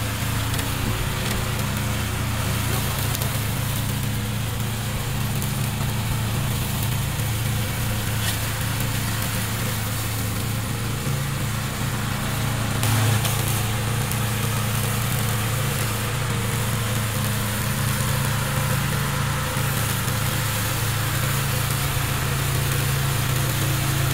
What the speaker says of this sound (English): if you want this remote control lawnmower, please contact us.